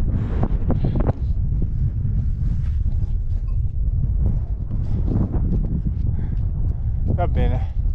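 Wind buffets the microphone on a hot mountain trail in the Velino-Sirente regional park, a steady low roar that runs the whole time, with a person talking over it.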